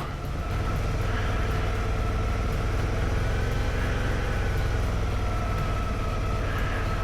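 A Suzuki V-Strom 650 motorcycle sits on its center stand in second gear, its engine running and rear wheel spinning in a loud, continuous drone that holds steady throughout, with no talking.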